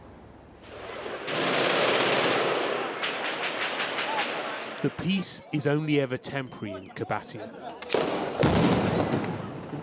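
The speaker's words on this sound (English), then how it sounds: "Gunfire, then the rumble of military vehicles." Rapid bursts of automatic gunfire crack out during an Israeli military raid in Qabatiya in the West Bank, in several loud rattling volleys, with a narrator speaking over the middle stretch.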